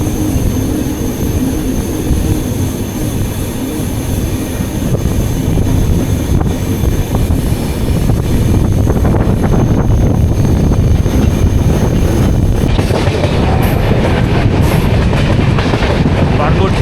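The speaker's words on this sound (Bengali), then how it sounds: "পুরো ট্রেন বাঁক নিচ্ছে, আর চারিদিকের উপরে ছোট ছোট পাহাড়।" Kanchankanya Express passenger train rolling through a curve among small hills, loud and close, with steady wheel rumble and rhythmic clickety-clack on the rails, brighter rattling and faint squeal rising toward the end.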